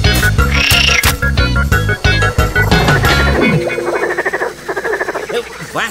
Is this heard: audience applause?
no